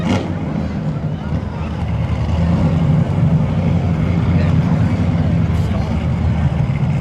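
A 1992 Chevy Camaro and a 1985 Chevy Corvette rumble at the starting line of spectator drag racing at Seekonk Speedway, a steady loud low engine drone under an announcer's voice.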